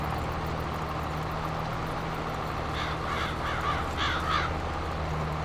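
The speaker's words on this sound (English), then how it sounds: "Stirring those birds." Birds stirred up along a field edge in a farming video game, several crow-like caws clustered near the end over a steady low machinery drone.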